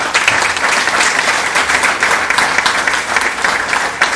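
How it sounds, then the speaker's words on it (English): A graduation ceremony audience gives a steady, rousing round of applause, dense clapping filling the hall at a constant level throughout. "I ask you to help me to give a rousing round of applause"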